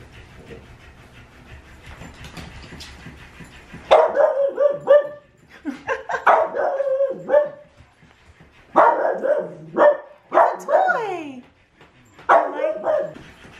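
Two dogs, a Cavalier King Charles Spaniel among them, bark loudly in repeated bursts at a floppy fish toy placed on the floor indoors, with short gaps between the volleys.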